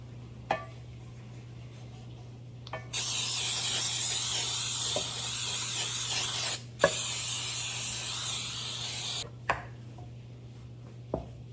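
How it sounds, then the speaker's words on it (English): A can of baking spray sprays in two long hissing bursts while greasing a cake tin, with a few soft clicks and taps between and after them. "I'm using my little favorite baking spray"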